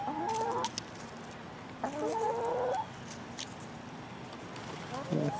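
Chickens clucking in short bursts while taking dirt baths outdoors, the calls moderately close against a steady background hiss.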